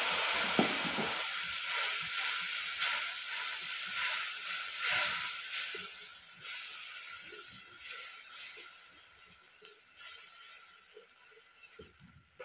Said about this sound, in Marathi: फोडणी छान परतून घ्यायची.